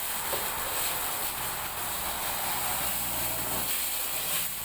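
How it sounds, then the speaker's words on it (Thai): Coconut milk hisses steadily as it is stir-fried in a pan, a constant, even sizzle with no clear breaks. "เอากะทิลงมาผัดด้วยพี่น้องกะทิลงมาผัดด้วย"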